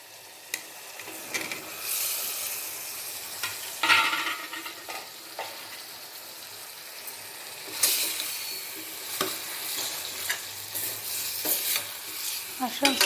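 Mushrooms stirred and fried in a pan, a continuous close sizzle broken by repeated scraping stirs and clinks of a spoon against the pan, with no voices.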